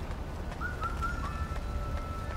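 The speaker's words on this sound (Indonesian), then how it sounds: "Ada burung gagak." A bird calling in the video game Wuchang: Fallen Feathers, a brief whistled tonal cry over a steady low ambient rumble, with faint scattered clicks.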